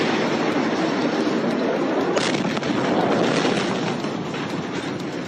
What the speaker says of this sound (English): The government says tons of ammonium nitrate, a chemical used in fertilizer, exploded in an unsecured warehouse.